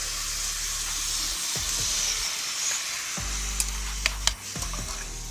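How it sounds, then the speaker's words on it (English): Warishita and mirin bubble and sizzle in beef fat in a sukiyaki pot, a constant close frying hiss with a few sharp pops and utensil clicks toward the end and no voices. "The mirin is gonna bubble up into all that delicious beef fat and create a super rich broth."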